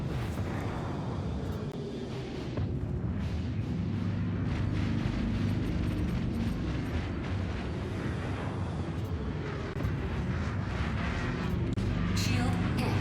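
A missile striking a ship during space combat in Star Citizen, a dense, rumbling roar of impact and explosion noise filling the scene, sustained and heavy with deep low-end energy, with a voice talking over it.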